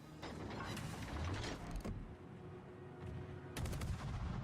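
Naval guns fire in an online ship battle game, a dense stretch of rapid booming shots and mechanical clatter followed by a lull and another volley, moderately loud throughout.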